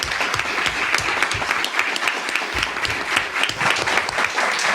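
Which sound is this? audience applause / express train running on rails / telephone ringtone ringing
audience applause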